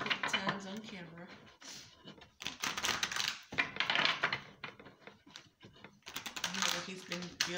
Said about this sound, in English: I've already shuffled these cards, y'all. Just going to do it a couple times on camera.